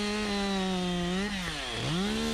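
A chainsaw cuts a felling notch into a small tree during difficult removal of a hung-up tree, the engine droning close and loud and steady, then dipping briefly in pitch as it bogs in the wood before recovering.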